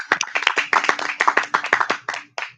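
An audience at an evening poetry reading claps together, producing a brisk run of sharp, close hand claps that lasts a couple of seconds and fades at the end.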